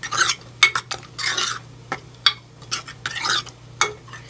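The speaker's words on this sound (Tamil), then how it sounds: "இதை லைட்டாக கரண்டியை வச்சு கொஞ்சம் மசிச்சு விட்றலாம்." A ladle scrapes and presses through cooked lentils and broad beans in a pot, giving irregular soft scraping strokes and knocks at close range with no talking.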